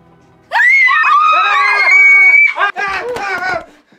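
A person lets out loud, high-pitched screams, one long sustained shriek followed by a shorter broken burst, close and alone without other talk.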